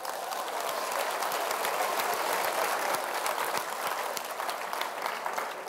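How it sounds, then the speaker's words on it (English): A class of students applauding themselves after solving a multiplication problem, a dense, continuous patter of many hands clapping at once, loud and even throughout, with no voices over it. "Give yourselves a nice round of applause."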